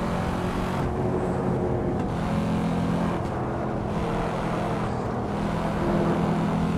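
Corvette C4 ZR1 V8 engine driving in the Assetto Corsa racing game, a loud continuous engine drone with brief dips as gears shift, running steadily throughout without speech.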